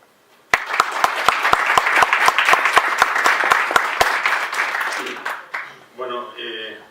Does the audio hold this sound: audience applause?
yes